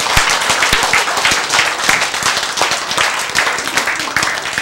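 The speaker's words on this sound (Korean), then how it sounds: "박수." An audience bursts into loud, close applause during a spiritual lecture, dense hand claps with sharp individual smacks standing out, continuing steadily without a break and with no talk over it.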